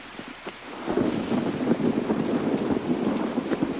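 Heavy rain in the video game Escape from Tarkov, a dense steady hiss that swells after the first second and stays loud and continuous, with no voices.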